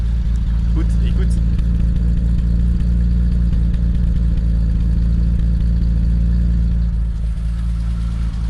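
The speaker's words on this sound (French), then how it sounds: "le son du 6 cylindres c'est quelque chose hein" A cold BMW E30 320i six-cylinder engine runs loud and close with a deep, steady drone and mechanical clatter, holding its note rather than climbing, while a person talks over it.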